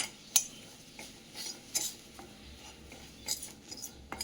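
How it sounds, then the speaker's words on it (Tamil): A metal spoon stirs grated coconut with ghee in a pan for barfi, with intermittent scraping and sharp clinks against the pan at an irregular rhythm, close and clear with no talking. "தேங்காய்லேயும் இந்த கப்பியில் எல்லாத்துலேயும் இது கலக்கிற மாதிரி இந்த நெய் படுற மாதிரி நல்லா கலந்துக்கோங்க"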